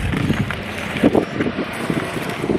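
Wind gusts hard against the microphone on a beach, a loud, close, continuous rumbling buffet with a few stronger thumps and no clear voices.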